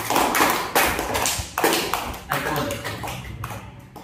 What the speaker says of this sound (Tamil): கை தட்டுங்க.